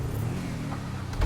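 A car engine in the video game GTA V rumbles steadily at close range, with a slight rev swell near the end.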